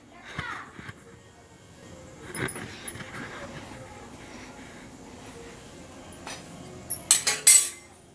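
Cooked appam lifted from the pan and set on a plate, with scattered light metallic clinks and scrapes of utensil against cookware, a brighter rattle of clinks near the end, and faint background voices.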